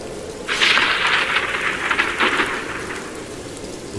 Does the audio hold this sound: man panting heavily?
no